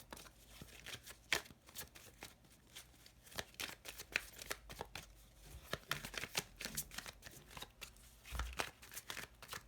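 Lenormand fortune-telling cards shuffled by hand in a steady run of crisp riffling flicks and soft slaps that go on for nearly ten seconds, close up and fairly quiet, with nobody talking.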